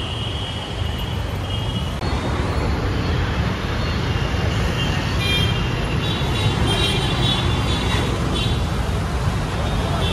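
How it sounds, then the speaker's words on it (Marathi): Heavy road traffic in Pune: a dense, continuous roar of cars, trucks and buses, steady and fairly loud throughout, with a faint horn now and then. "भयंकर ट्रॅफिक."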